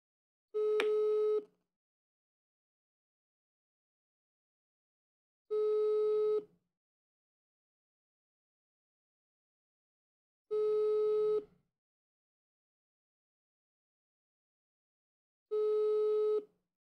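Telephone busy signal on a blocked call: four evenly spaced tones, each about one second long, separated by roughly four seconds of silence, clear and alone.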